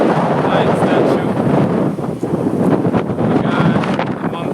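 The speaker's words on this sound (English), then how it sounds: "it's a little windy still" Strong wind buffets the microphone outdoors near a Buddhist temple on the Shikoku pilgrimage, roaring steadily and loudly for the whole stretch with gusty surges and no clear talk.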